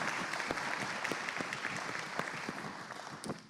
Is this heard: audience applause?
yes